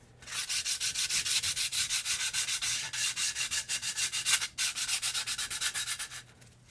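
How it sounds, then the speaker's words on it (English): Wood sanded by hand in quick back-and-forth strokes, a steady rhythmic rasping close by, with a brief pause near the middle and no talk. "So I'm just gonna sand it a little bit here"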